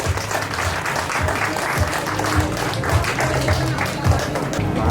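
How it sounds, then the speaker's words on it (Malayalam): An audience claps steadily to welcome Dani at a wedding evening, a dense, continuous round of applause that holds for several seconds with voices mixed in underneath. "കയ്യടി കൊടുത്ത് നമുക്ക് ഡാനിനെ സ്വീകരിക്കാം."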